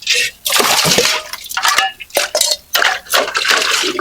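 Dishes and pots clatter during washing, with irregular bursts of clinking metal, scraping and splashing water separated by short pauses, close and fairly loud.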